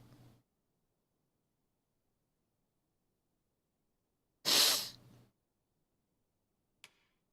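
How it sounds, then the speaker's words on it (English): A single loud, sharp sneeze bursts out of near silence, followed by a faint click. "I'm about to sneeze."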